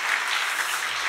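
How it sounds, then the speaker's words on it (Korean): Congregation applauding in a church service, a steady wash of many hands clapping at moderate level, even and sustained with no voices over it. "우리 박수 한번 해주세요"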